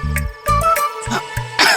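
A few sharp coughs burst out in quick succession at close range, each followed by a short pause, mixed with some throat-clearing noises.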